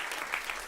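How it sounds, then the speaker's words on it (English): Audience applause for culinary partners at a food policy conference, a brief steady wash of clapping from a crowd, moderately loud and continuous without pauses. "Give them a round of applause."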